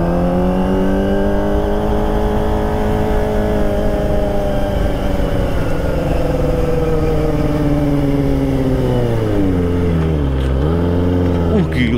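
A Kawasaki ZX-25R with a Prospeed Shark high-mount exhaust revs loud and close, a smooth high-pitched inline-four wail that holds steady, then dips and climbs as the rider downshifts near the end.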